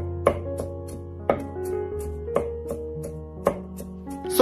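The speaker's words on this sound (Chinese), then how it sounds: "蒜末我们尽量给它切薄一些， 最后剁成蒜末" A kitchen knife chops garlic on a board, mincing it into fine pieces for ants-climbing-a-tree noodles, with several sharp, spaced knocks over a quiet background and a faint low hum.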